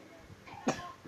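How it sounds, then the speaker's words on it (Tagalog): A child coughs once, a short sharp burst near the microphone, with quiet background noise and faint murmuring around it. "Oh, may sakit ka pa. May ubo ka pa."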